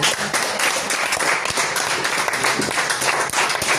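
Church congregation applauding to acclaim the Lord during a worship service, a dense, steady wash of many hands clapping close and loud throughout, without pause.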